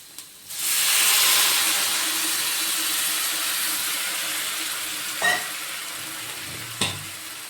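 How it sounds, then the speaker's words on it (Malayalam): A sudden loud hiss and sizzle as water hits a hot pan of masala powder for quail curry, fading gradually, with a couple of brief clinks near the end. "ഇതിലേക്ക് കുറച്ച് വെള്ളം ഒഴിച്ചു കൊടുക്കാം"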